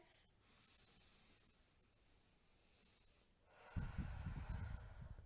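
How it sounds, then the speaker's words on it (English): A deep breath in, slow and hissing for a few seconds, then a louder, breathy rush of exhalation close to the ear, with no speech over it. "I'm going to take another deep breath."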